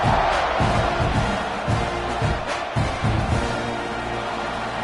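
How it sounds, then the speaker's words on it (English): A packed stadium crowd at a University of Florida college football game roars and cheers ahead of a kickoff, a loud, sustained wall of voices with surging swells and a few louder bursts. "this crowd now ready to get behind them"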